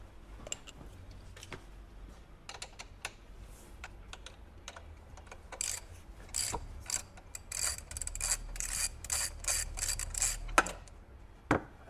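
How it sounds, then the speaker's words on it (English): Wrench tightening a nut during a Hyundai Ioniq motor rebuild: a run of sharp metallic clicks and ratcheting ticks, sparse at first and then quicker and louder toward the end, close by with no talk. "I just need another wrench here to tighten the last one down"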